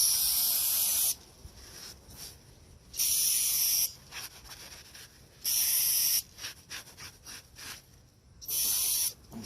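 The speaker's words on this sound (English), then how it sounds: "I'm going to spray it." A spray cleaner is aimed at a fresh oil stain on a concrete driveway in four separate close, loud hissing bursts of about a second each, with quieter handling sounds in between.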